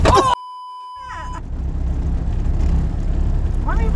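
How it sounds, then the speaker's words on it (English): A car on a driving lesson rumbles and rattles steadily with low road and engine noise, after a few brief electronic beeps at the start. "Why are we rattling so bad?"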